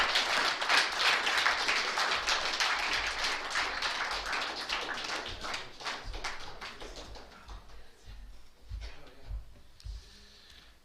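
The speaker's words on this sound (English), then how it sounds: "Let's thank the speaker, Charlotte, once again. Another round of applause." An audience applauds after a talk by a speaker named Charlotte. The clapping starts full and dense, then thins into scattered claps that fade to quiet.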